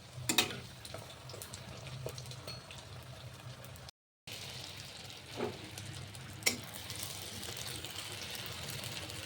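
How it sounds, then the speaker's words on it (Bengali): Fuchka puffing up as they fry in oil in a kadai, a steady low sizzle and bubbling running throughout with a few sharper crackles and stirring clinks, broken by a brief gap. "এবার এগুলো কড়াইয়ে ভেজে নেব"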